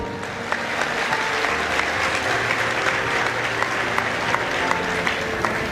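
A live audience at a comedy speech bursts into loud, sustained applause, a dense wash of many hands clapping for several seconds with a few sharper claps standing out.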